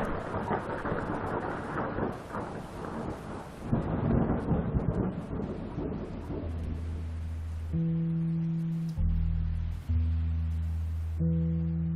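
A thunderstorm sound effect: a heavy rumbling roll of thunder over dense rain, loud and broad for several seconds, then rain continues as low sustained drone-like tones join in.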